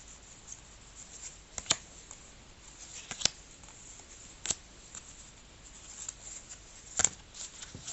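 Tarot and oracle cards being shuffled by hand, giving quiet, soft riffling with a few sharper snaps and flicks at irregular moments, close and without talk.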